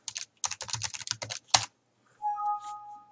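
Typing on a computer keyboard while logging in to a Foscam 1080P night-vision IP camera, a quick burst of close key taps followed by a single sharp keystroke, then a short electronic tone.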